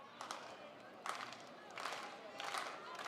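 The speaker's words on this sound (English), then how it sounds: "As the slow clap comes from the Rocket faithful to our right." Slow rhythmic clapping from a high school baseball crowd at a state tournament game, roughly one loud clap every three-quarters of a second, with stadium murmur underneath.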